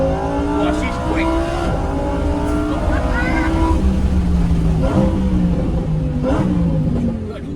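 A Lamborghini Huracan EVO accelerates hard, its engine climbing loudly through the revs with rising tones and brief drops at gear changes, sustained and close from inside the car.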